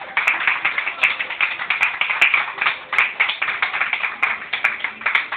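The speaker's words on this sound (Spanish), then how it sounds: "denle un aplauso" Rhythmic group clapping from a church congregation during a sermon, an even, fast beat of hand claps kept up throughout, fairly loud and close with no talk over it.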